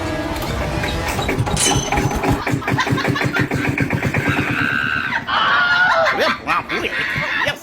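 A vehicle engine splutters and chugs unevenly while being push-started, rough low beats giving way to a brief catch and rev, with people chuckling and calling out over it nearby.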